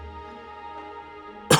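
An old man's cough, staged as an audio drama effect: a faint low murmur, then one sharp, loud cough burst right at the end.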